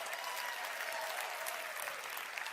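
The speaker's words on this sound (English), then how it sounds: "Give yourselves a round of applause." Audience applause at a live event, a steady wash of many hands clapping at even loudness from start to finish, somewhat distant and without talk over it.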